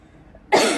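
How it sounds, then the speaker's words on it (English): A single abrupt, fairly loud cough bursts out after a half-second of quiet room tone, close to the microphone, with no talk around it. "I had to cough."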